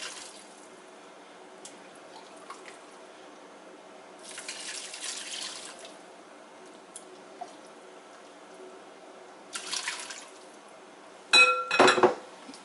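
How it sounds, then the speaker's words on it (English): Turkey broth poured through a strainer to catch the food bits: soft trickling water in a few separate pours, with a faint background hiss and a closing clatter of the strainer being handled. "we're going to put it through the strainer here, and it will collect the food parts."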